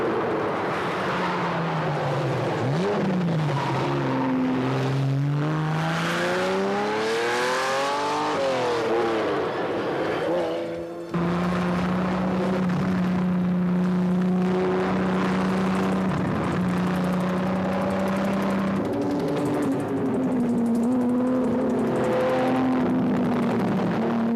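A Koenig-tuned Ferrari Testarossa sports car drives hard, its engine loud and close as it revs up through the gears in rising sweeps. A brief drop in sound marks a shift before it pulls strongly again and holds a high, sustained roar.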